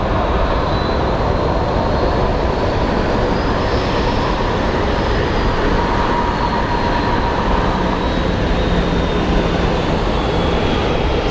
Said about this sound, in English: This guy's using up most of the runway.